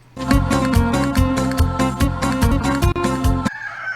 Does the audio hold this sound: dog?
no